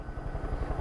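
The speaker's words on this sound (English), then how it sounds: "I got the helicopter!" Helicopter in the video game Far Cry 5, a steady throbbing rotor chop with a low pulsing beat, close and fairly loud throughout the short moment with no talking.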